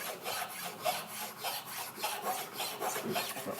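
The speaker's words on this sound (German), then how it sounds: "Wenn man das feilt, dann merkt man das auch, da ist so eine ganz kleine Unebenheit." A hand file rasps back and forth across a wooden instrument part to smooth out a small unevenness, steady rhythmic strokes close up and fairly loud, with no talking.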